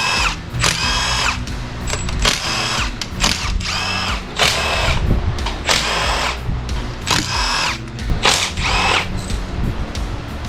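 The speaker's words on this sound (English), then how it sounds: "The rest of this should be just taking off intake manifold bolts." Power tool backing out intake manifold bolts on a 6.1 Hemi engine of a Dodge Magnum SRT8, loud repeated whirring bursts of roughly half a second each, close up and without talk.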